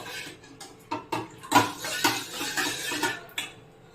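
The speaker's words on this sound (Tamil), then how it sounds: "அந்த மிக்சியில் மாவு ஒட்டி இருக்கும், அதனால் அதை அலம்பி விடுறேன்." Clinks and knocks of a mixer jar being rinsed and swirled with water to loosen stuck black urad dal batter, irregular clatters over a soft wet background, close by.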